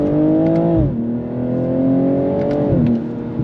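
A tuned car with an intake and exhaust upgrade pulls hard in a second-gear drag from about 45 mph, the engine note climbing steadily in two long revving surges, each ending in a sharp drop, loud and close.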